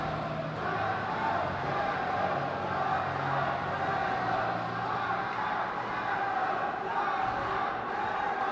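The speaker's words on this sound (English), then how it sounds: "Georgia crowd supporters going a bit nuts there" Supporters of Georgia cheer and roar at an ice hockey game against Chinese Taipei, a dense, sustained crowd noise filling the arena with no breaks.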